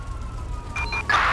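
A short burst of an emergency vehicle siren responding code 3 in GTA 5, a rising electronic wail that swells loud toward the end of the brief moment.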